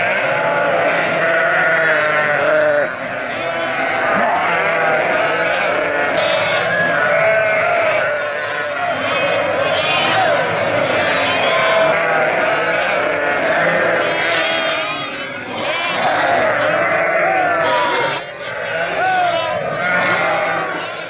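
Sheep outside and lambs penned in nets bleat together at feeding time on a farm, a dense, continuous chorus of overlapping calls, loud and close throughout.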